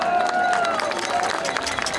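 Crowd at a Paris street rally against Covid measures applauding and cheering, a dense, steady wash of clapping and voices close by, filling the whole moment.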